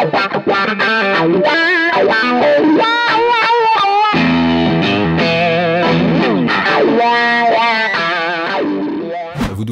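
A guitar riff played through wah-wah and heavy distortion, sweeping filtered notes and chords in a continuous loud run with no talking.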